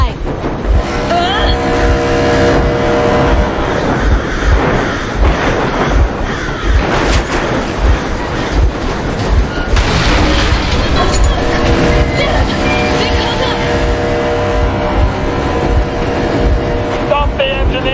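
A video game vehicle engine runs steadily throughout, a loud continuous mechanical drone with shifting tones, while game voices and other sounds play over it.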